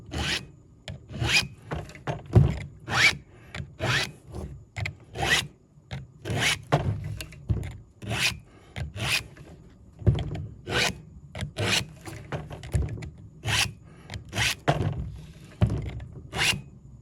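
Chainsaw teeth are sharpened with a hand file in rhythmic pull strokes, each a sharp rasping scrape, about two per second, repeating steadily and close up with no talking.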